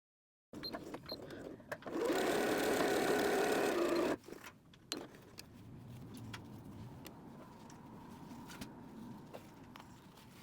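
A sewing machine stitches a quarter-inch seam with a backstitch, running in a loud, fast whir for about two seconds, then stopping; quieter clicks and faint handling follow.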